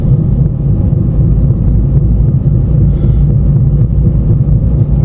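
A steady, loud low drumming rumble comes from inside a moving Fiat 500 with a faulty gearbox, a dense droning hum that holds constant throughout with no speech.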